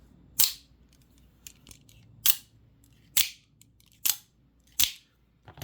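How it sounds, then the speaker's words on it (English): Scarab 2 Gen 3 OTF knife fired repeatedly, five sharp mechanical snaps spaced about a second apart, each trailed by a brief metallic spring twang, close and moderately loud with quiet gaps between. "when you fire the action and you can hear the springs inside sort of going twang afterwards"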